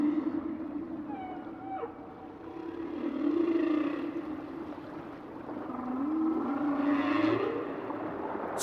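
Underwater whale calls: long, sliding moans and upswept whoops over a steady low hum, rising and falling in loudness through the recording.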